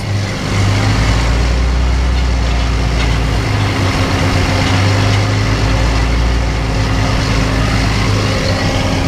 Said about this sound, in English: That's a beauty of a looking tractor.